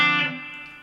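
A Fender Elite Stratocaster electric guitar on its bridge pickup rings out in a single bright strummed chord that decays steadily over about a second, with no talking.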